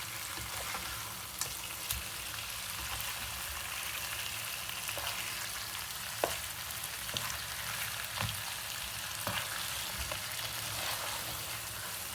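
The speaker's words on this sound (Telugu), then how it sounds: "మనం ఫ్రై చేసుకున్న ఫిష్ ముక్కలు ఉన్నాయి కదా, ఇవన్నీ దీంట్లో వేసేసి ఈ మసాలా అంతా పట్టించుకోవాలి." Fried murrel fish pieces are tossed through masala in a hot pan, giving a steady soft sizzle with faint scraping and stirring clicks scattered throughout, close by and without any talk.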